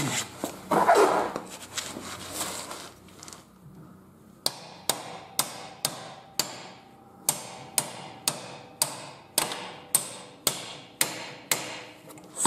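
Steady hammer blows strike at a regular pace, each a sharp close impact, preceded by some rustling handling noise, during work to raise a Jetforce scooter.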